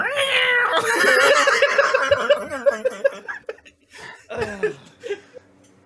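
A cat meows repeatedly in drawn-out, wavering cries, loud and close, turning into shorter yowls toward the end.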